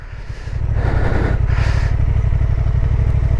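Honda XL750 Transalp motorcycle riding off-road on sandy gravel, its engine rumbling loud and close as it picks up, with bursts of crunching gravel and wind noise.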